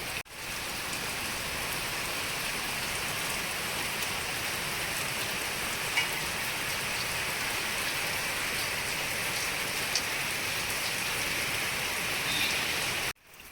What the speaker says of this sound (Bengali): কিন্তু এত বৃষ্টি হচ্ছে ঝমঝম করে।